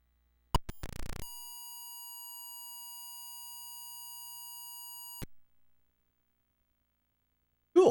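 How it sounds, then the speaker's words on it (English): FujiNet device sending 7K of data in burst mode on an Atari, a short clicky burst and then one long steady electronic beep lasting about four seconds, followed by silence. "you can hear the long beep as it transfers 7K worth of data in one shot."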